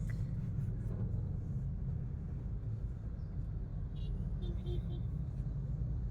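Steady low rumble from inside a car crawling through heavy traffic on Commonwealth, with engine and road noise constant and faint people talking underneath.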